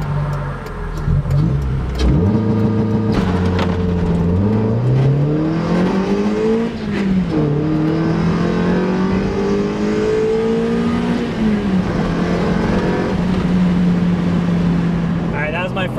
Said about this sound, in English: that was my first time launching with the launch control and the NB